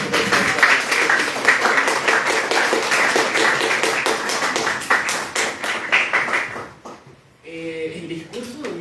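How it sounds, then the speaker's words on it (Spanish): An audience at a sociology colloquium breaks into dense applause that fills the room for several seconds and then fades. A voice begins speaking right after. "Un aplauso."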